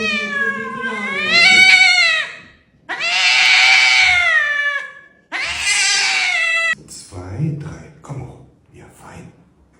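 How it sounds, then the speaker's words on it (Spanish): Several cats receiving chiropractic-style body adjustments from a specialist meow loudly and drawn out, caterwauling in three long close cries followed by shorter, rougher calls. "En este video vemos a un especialista realizando ajustes corporales a varios gatos, una práctica similar a la quiropraxia."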